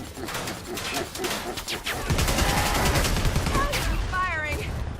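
Gunfire in the video game Predator: Hunting Grounds: bursts of rapid, sharp shots, dense and loud toward the end, mixed with game effects and a voice speaking.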